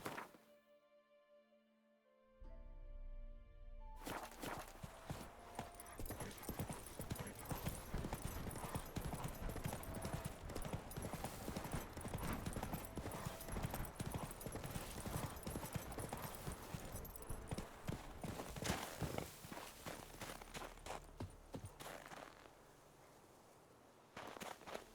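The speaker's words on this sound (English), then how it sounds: "Run, Roach." Roach, a horse in The Witcher 3, gallops with a steady, loud, continuous clip-clop of hooves that runs almost the whole time after a brief quiet start, with game ambience beneath.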